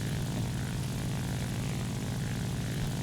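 A J7W1 Shinden propeller fighter dives in War Thunder, its engine a steady, dense roar mixed with rushing air noise, continuous and moderately loud with no talk.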